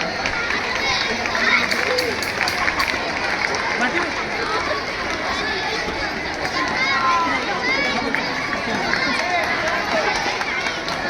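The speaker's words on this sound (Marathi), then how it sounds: "एकदा टाळ्या वाजवा सर्वांनी" An audience at a school stage ceremony claps continuously throughout, a dense, steady wash of hands with voices mixed in.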